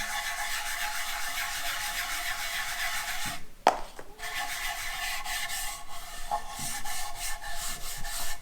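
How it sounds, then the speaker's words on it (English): Food-safe wax rubbed back and forth across the top of a wooden board, a steady soft scrubbing texture that runs throughout, broken by a brief sharp knock or shift near the middle. "I normally just wax the top. Go back and forth."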